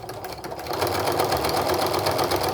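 A sewing machine runs a generous quarter-inch seam with reinforcing stitches on a Christmas stocking made from charm-pack fabric, its steady close whir starting softly and then settling into a constant hum.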